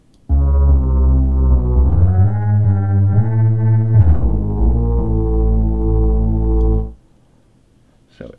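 A very low-pitched bass synthesizer preset in LMMS plays a sustained, buzzing, harmonically rich note that shifts pitch a few times, loud and alone for about six and a half seconds before cutting to silence.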